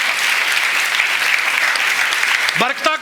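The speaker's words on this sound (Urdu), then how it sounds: "ایس خدا لی تے زوردار تالی بجنی چاہے" A church congregation at a pastor's sermon breaks into loud, dense applause that holds steady throughout, with a voice starting to speak over it near the end.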